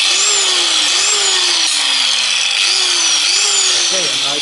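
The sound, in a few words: ax sharpening machine running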